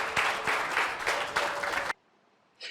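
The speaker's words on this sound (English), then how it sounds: "give yourselves a big round of applause" A live event audience breaks into applause, a dense, steady clatter of many hands for about two seconds that cuts off abruptly into near silence before a brief flicker of sound.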